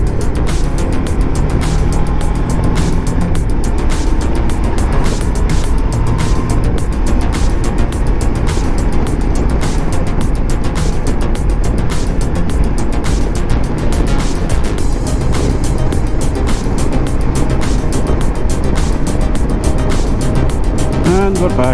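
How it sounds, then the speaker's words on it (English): Road traffic on a busy road heard from a bicycle, a steady loud roar of passing cars and engines with wind noise throughout, continuous without clear breaks. "And we're back in the traffic."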